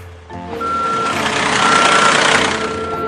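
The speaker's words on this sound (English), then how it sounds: "Okay, back the truck up." A truck's reversing alarm beeps in a steady repeating tone over a loud, rumbling diesel engine close by.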